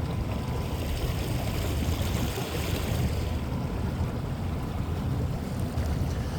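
Small boat driven by an inexpensive electric motor at about five miles an hour, a continuous close rush of water and wind noise with no talking.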